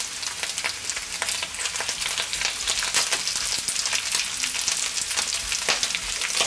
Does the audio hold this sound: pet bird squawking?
no